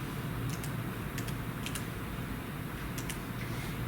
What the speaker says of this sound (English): I'm going to type my number in using the keypad on the counter